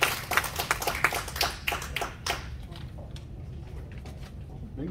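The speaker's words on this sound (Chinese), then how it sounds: "我们掌声欢迎我们的创会会长" At a club meeting and installation ceremony, an audience claps to welcome the founding president. The quick, scattered claps are fairly close for the first couple of seconds, then thin out and fade, with murmuring voices underneath.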